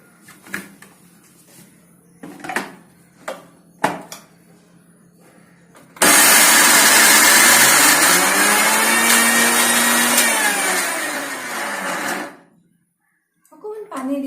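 A mixer grinder grinds sago pearls with a sudden loud motor whir that holds steady for about six seconds, then cuts off; soft handling knocks and clicks come before it.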